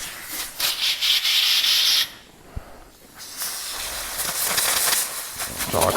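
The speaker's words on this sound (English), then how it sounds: "I'm just using lowly amounts of air" Compressed air blasted in bursts through the fuel pump of a 1968 Fiat 500 engine, giving loud airy hissing with a short lull in the middle and no talk.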